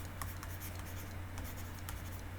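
Faint scratchy strokes of writing on a board while equations are worked out, short quiet marks coming in small clusters over a steady low hum.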